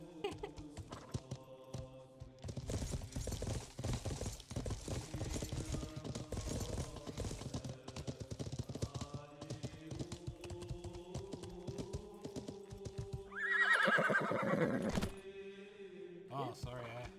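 A horse's hooves clop along with a brief whinny near the end, while background music and scattered sounds run throughout.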